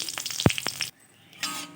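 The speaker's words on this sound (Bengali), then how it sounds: "শুকনো লঙ্কাগুলো প্রায় ভাজা হয়ে গেছে" Dried red chillies fry in mustard oil in a pan with crackling pops and hiss, then a short quiet break before the sizzle picks up again.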